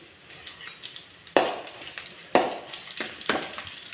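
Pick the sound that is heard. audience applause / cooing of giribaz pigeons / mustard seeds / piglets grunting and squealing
mustard seeds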